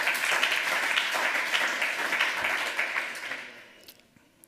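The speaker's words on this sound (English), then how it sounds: "so give them a round of applause for getting that" Audience applause at a lightning talk session during the 28c3 hacker congress, dense steady clapping from a full room that fades out over the last second.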